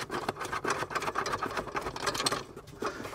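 Screws being undone on the towbar storage box of a VW California camper, a faint, close, rapid ratcheting whir of a power driver, rhythmic and mechanical, with no voices.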